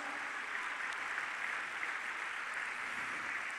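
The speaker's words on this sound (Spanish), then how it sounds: "dale un aplauso al Señor" A church congregation claps together in sustained, even applause during a worship service, with a dense, fairly distant patter that holds steady throughout and no voice over it.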